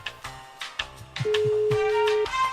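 A phone being dialed, with a string of short separate keypad tones followed by a long steady ringing tone and further brief beeps, fairly loud and clear with no talk.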